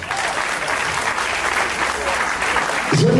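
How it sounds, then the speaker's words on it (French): Audience applause at a civil wedding ceremony, a steady dense clapping from a crowd held at even loudness throughout, with a voice starting to speak over it at the very end. "Applaudissements pour le lycée technique."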